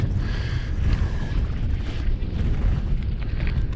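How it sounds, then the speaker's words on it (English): Strong wind roars steadily across a frozen lake during tip-up ice fishing, buffeting the microphone with loud, continuous low rumble and gusts throughout. "Gosh, this wind is just nuts."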